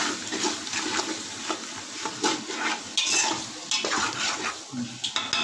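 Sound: stirring ginger garlic paste into biryani masala

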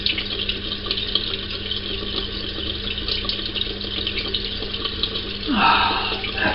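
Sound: running cold tap water

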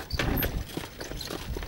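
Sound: horse hooves clip-clopping while pulling a cart

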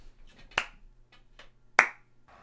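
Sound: clapping

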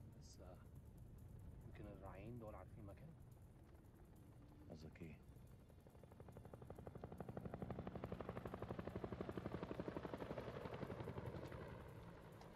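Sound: helicopter in the video game House of Ashes

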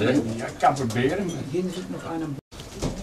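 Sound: pigeons cooing in a racing pigeon loft

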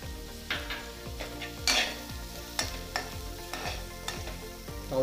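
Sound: chopped onion and carrot frying and being stirred in a pan

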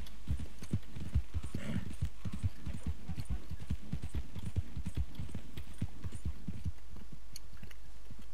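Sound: Criollo horse hooves clip-clopping in Red Dead Online video game

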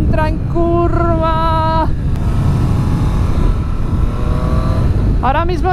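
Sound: Triumph Street Triple RS motorcycle riding into a curve

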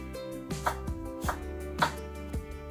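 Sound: knife finely chopping half an onion

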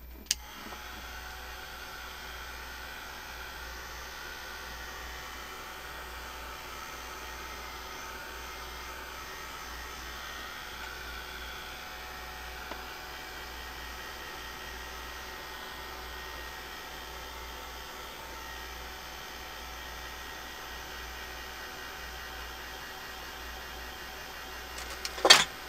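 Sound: heat tool blowing hot air

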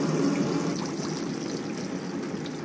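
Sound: hot water running from caravan tap

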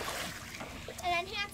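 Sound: child splashing water

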